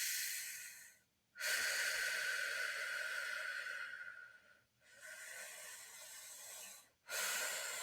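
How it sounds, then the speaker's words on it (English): A yoga breathing exercise, air drawn through clenched teeth with lips slightly parted, makes three long, close hissing breaths separated by short silent pauses. "This one is kind of a hissing breath."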